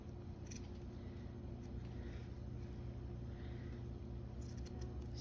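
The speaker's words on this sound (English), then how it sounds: "So I'm just cutting a bunch of them." Scissors cutting through a batch of paper tags, soft snipping strokes buried under a steady loud hum, heard close up with nobody speaking.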